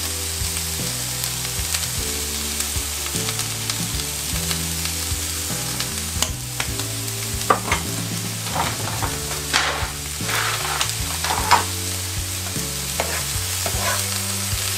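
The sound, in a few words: stirring frying cabbage with vegetable seasoning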